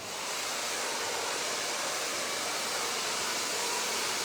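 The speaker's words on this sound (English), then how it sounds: "I'm just going to work that blow dryer." A hair dryer blowing continuously, a loud, steady rushing whoosh close by with no pauses.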